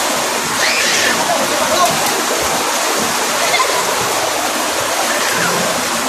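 Heavy rain pours down steadily, a dense broadband hiss and splatter like falling water that fills the scene at close range without letup.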